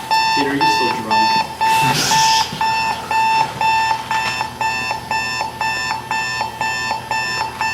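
Alarm clock rings on and off in a steady beeping pattern during a Rube Goldberg theater tech demonstration, with a louder burst near the start as voices and room noise sit underneath.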